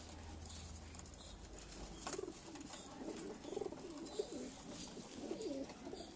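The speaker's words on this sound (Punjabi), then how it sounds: "ਔਰ ਲਾਜਵਾਬ ਕਬੂਤਰ ਨੇ ਜੀ" Caged pigeons coo softly in a low, steady murmur, with a few brief rustles and flutters in the cage; the calls stay faint and close, with no voices.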